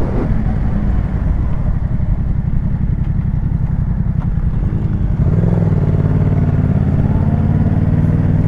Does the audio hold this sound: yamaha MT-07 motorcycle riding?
yes